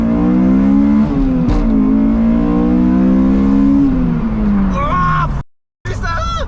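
Honda S2000 engine with a K&N cold air intake revs loudly and steadily, its pitch climbing and dipping, then cuts abruptly to a brief silence before resuming with a rising whine.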